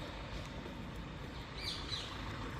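Small birds in the trees of the Parkinsel park in Ludwigshafen am Rhein give a few faint, high chirps over a steady background hum, distant and brief.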